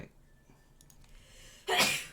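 A single sharp sneeze bursts out loud and close to the mic near the end, after near-silence, from a streamer editing while talking about Grand Theft Auto.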